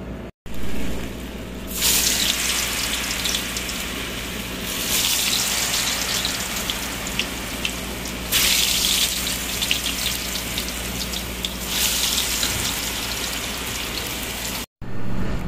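Homemade potato chips fry in hot oil with a loud, continuous sizzling hiss that swells and eases in waves, close by and without speech.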